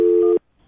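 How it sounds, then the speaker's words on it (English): Telephone keypad tones sound as a number is dialed, a loud steady tone holding for about a third of a second, a short silence, then a second tone starting, with no talking. "I'm going to dial the phone number right now"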